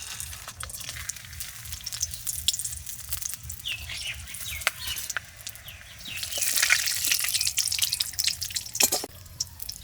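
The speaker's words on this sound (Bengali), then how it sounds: "ফোড়নে কিছু গোটা মশলা দিয়ে দিচ্ছি" Whole spices, bay leaf and dried chilli sizzle in hot oil left over from frying potatoes, a steady close crackle with occasional sharp pops, swelling louder toward the end while preparing a village-style duck curry.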